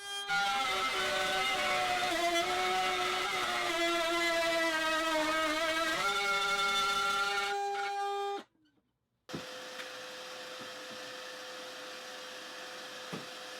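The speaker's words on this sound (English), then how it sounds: "It lets the router glide straight through and make a clean cut every time." Wood router cutting through scrap wood on a box clamped to a workbench, a loud steady high-pitched whine with shifting harmonics that cuts out abruptly, then resumes as a lower steady motor hum.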